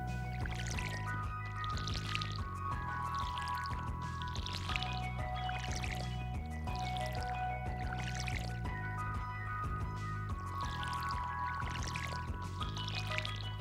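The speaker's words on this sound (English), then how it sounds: "So now we have a watering can. Let's put water on there." Watering crops with a watering can in the video game Stardew Valley: soft repeated pouring and splashing bursts roughly every second, set over steady background game music.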